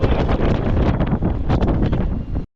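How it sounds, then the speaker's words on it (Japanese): Typhoon-strength wind roars across an open, unsheltered observation deck in Kyushu, Japan, as a loud, continuous buffeting rush that cuts off abruptly. "私が行った時はもう息が止まるくらいのもう台風レベルの強風でした"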